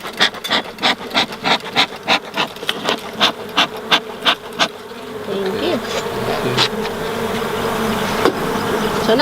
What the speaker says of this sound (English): So now we can hear some of the buzzing noises.